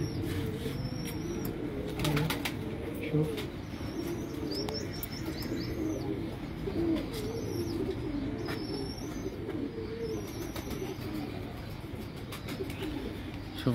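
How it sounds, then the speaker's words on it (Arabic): Pigeons in a loft coo in low, soft repeated phrases while thin chirps and occasional wing flaps sound nearby, under a steady background hum. "الحمام حمام الاستاذ مياه نذير"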